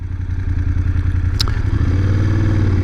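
A new 2023 BMW F750 GS motorcycle engine runs with a steady low, throbbing drone and a faint mechanical clatter, close and continuous throughout, with no talking.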